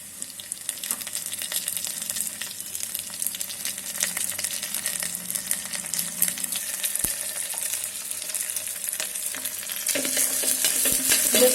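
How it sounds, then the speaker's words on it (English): Onions fry in an electric kettle while veg pulao is prepared, giving a steady close sizzle with scraping stirs and occasional clinks, and the hiss grows slightly louder toward the end. "Now fry the onion till it turns light golden color."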